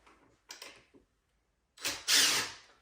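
Impact wrench loosening the wheel trim ring bolts on a Ford Bronco, a couple of short buzzing bursts followed by a longer, louder rattling burst, close and with no talking.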